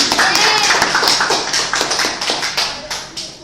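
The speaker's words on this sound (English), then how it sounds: "we give applause to Adek Sriwahyuni first" A class applauds a student presenter, a short burst of clapping from a small group of hands in a room, tapering off over a few seconds.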